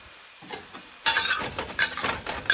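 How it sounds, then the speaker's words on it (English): Jumbo scallops searing in cooking oil in a pan: a quiet start, then at about one second a loud, broadband sizzle bursts up and keeps crackling with uneven surges, close and alone. "Sear your scallops for about 30 seconds."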